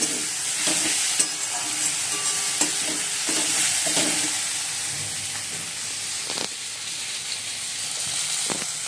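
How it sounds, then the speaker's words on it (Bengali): Spices being stir-fried with onion and tomato in a pan, a steady close sizzle with stirring scrapes and small clicks throughout, no voices. "আর এদিকে মশলা কষানো হচ্ছে মশলা কষানো এনে পেঁয়াজ আর টমেটো দেওয়া হয়েছে"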